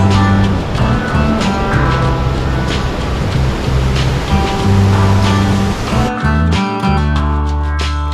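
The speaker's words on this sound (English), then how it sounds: "The Gullfoss waterfall is probably one of the treats of the Golden Circle" A loud, continuous rush of heavy water from Gullfoss waterfall in Iceland roars throughout, with deep rumbling underneath and a brief dip near the end before the roar resumes.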